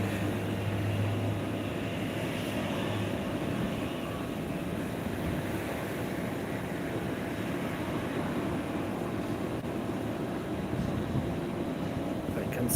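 Airbus A320 airliner at Phuket International Airport in the evening, a steady broad jet roar with low rumble that holds for about thirteen seconds, loud and continuous, with brief talking faintly underneath.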